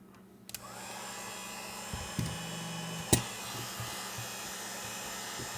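A heat gun warms a phone screen to loosen it from the frame, giving a steady faint blowing hiss throughout with a few small clicks and knocks from handling.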